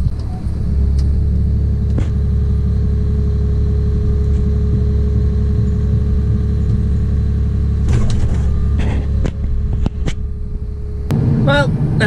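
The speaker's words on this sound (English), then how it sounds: "There is the truck there. The B double. He's going to come past." A B-double logging truck rolls past a roadside timber stack, its engine a loud, steady low rumble that holds for several seconds before a few sharp clatters and knocks near the end.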